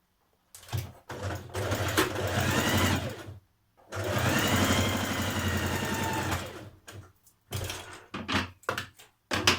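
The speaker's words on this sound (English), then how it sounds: "I'll just back tack a little bit there." A sewing machine back tacking along a top seam, running in long steady bursts with short pauses and a few quick stitches near the end.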